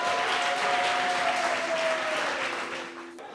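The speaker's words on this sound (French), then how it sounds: "plein d'applaudissements pour elle" Audience applause for a first-prize winner at a closing and awards ceremony, steady dense clapping from a sizable crowd that slowly fades out, with a faint sustained tone running underneath.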